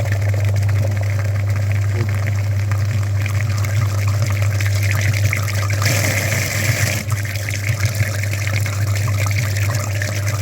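A very dirty car heater radiator is flushed with liquid, giving a steady, continuous rush of flowing water over a constant low pump-like hum, close and fairly loud throughout.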